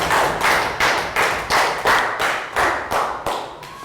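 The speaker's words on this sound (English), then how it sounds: "High round of applause for Annette." A Year 3 maths class claps in about eight rhythmic bursts, a unison cheer-style round of applause in a classroom, close and fairly loud.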